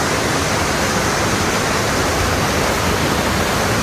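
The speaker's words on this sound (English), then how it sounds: "next to the waterfall" A waterfall roars in a dense, steady wash of rushing water heard close up at an outdoor cooking spot, constant and unbroken throughout.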